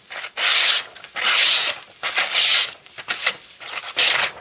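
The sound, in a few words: Benchmade HK 14300 knife slicing paper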